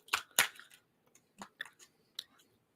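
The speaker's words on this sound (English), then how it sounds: "I'm going to be really naughty and have some gum" Someone chews gum close to the mic, producing a handful of sharp, irregular wet clicks and smacks, the louder ones early and softer ones trailing off, with quiet pauses between.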